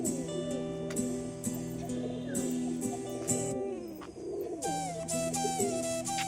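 Pigeons cooing on a rooftop loft, repeated low throaty coos in overlapping rhythmic phrases, close and clear, with a few brief sharper bird sounds between them.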